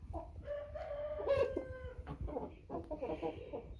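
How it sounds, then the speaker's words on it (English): Young roosters, about 15 weeks old, crow in a farmyard: one drawn-out, strained cock-a-doodle-doo rises loud and close, then a rougher, choppier crow follows, with scattered clucking around them. "They're starting to crow."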